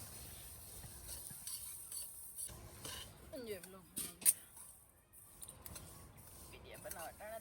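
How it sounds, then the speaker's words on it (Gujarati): Sesame seeds being dry-roasted and stirred in a pan in a home kitchen, a scraping, rustling stir with faint sizzle and occasional clinks of the utensil, fairly quiet and close, while a person talks intermittently. "થોડાક આપણે તલને શેકી લઈએ"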